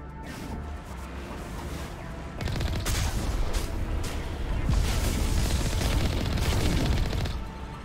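Heavy gunfire from a Mass Effect Legendary Edition fight on Virmire swells into a dense stretch of rapid shots and booms, loud and continuous for several seconds before easing off.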